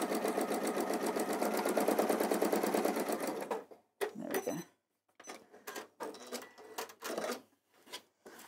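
A sewing machine stitches fabric in a steady, fast whirring run, then stops and restarts in several short bursts, close by.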